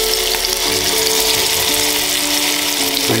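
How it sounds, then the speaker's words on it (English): Meat searing in hot oil in a pan gives off a loud, continuous close-up sizzle with a dense crackle that stays steady throughout, no voices. "what you want to do is you just want to sear on all sides"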